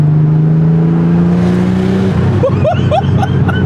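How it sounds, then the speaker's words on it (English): A 1987 Porsche 930 Turbo engine hums steadily, then several sharp popping crackles burst from the exhaust as it decelerates, close and loud. "The pops on deceleration"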